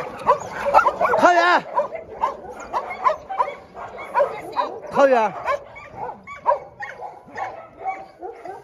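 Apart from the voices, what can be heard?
dogs barking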